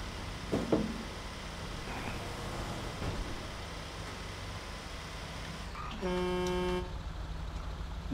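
A car horn in the video game GTA RP gives a short honk of under a second, amid steady game noise and engine hum, with faint sounds earlier.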